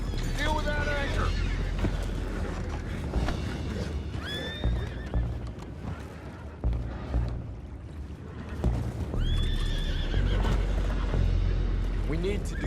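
Horses in Red Dead Redemption 2 whinny repeatedly over clip-clopping hooves and rumbling movement, with a loud neigh near the start, more in the middle, and another toward the end. Voices talk throughout.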